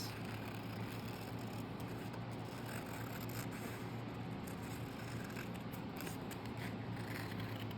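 Scissors cutting paper at a crafting table, a steady, continuous crisp snipping and rustling that runs throughout at close range with no talk.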